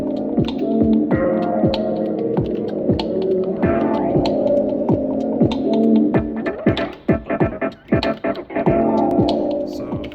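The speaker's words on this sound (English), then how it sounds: "you're gonna hear a lot of me messing up with the delay time during the track" Electronic track with steady throbbing, humming synth layers and repeated percussive hits, its delay times shifted while playing so echoes stretch and smear; denser stuttering bursts near the end, no voices.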